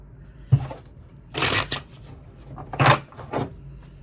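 Tarot cards being shuffled by hand, a few crisp riffling bursts with short pauses between them, close and clear with no talking.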